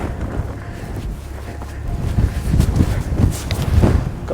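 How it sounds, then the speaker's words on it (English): Steady wind buffets a microphone on the cairn-marked summit of Glaramara, a rough, gusting rumble that builds toward the end, heard alone without talk. "Got the wind behind me."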